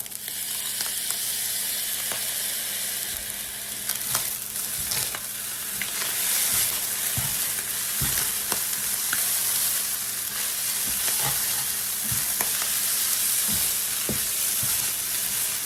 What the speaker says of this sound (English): And now we're actually gonna add in a little bit of minced garlic as well. And then we'll get that all mixed up.